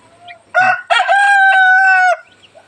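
Broiler chickens on a small poultry farm, one rooster crowing loudly and close in a single drawn-out cock-a-doodle-doo, with faint clucking and farmyard murmur before and after.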